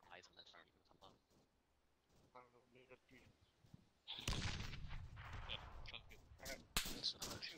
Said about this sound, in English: I saw the explosion, but I thought it was a small rocket.